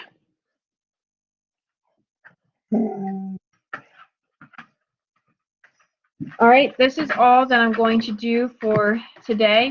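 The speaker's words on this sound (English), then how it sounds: "Sorry about the dogs in the recording." A dog gives a short whimpering whine amid near silence, then a person begins speaking close by.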